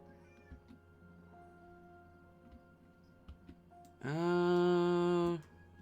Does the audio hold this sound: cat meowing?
yes